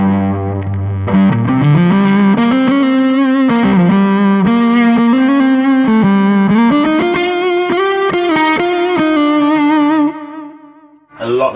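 A B.K Butler Tube Driver pedal with a bias knob, cranked to full volume, pushes an electric guitar into loud, sustained distortion with ringing chords and bends, playing alone for about ten seconds before a brief dip.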